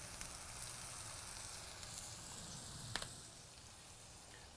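Burger buns toast on a hot griddle with a soft, steady sizzle and crackle, joined by a couple of faint clicks and scrapes, with no talking.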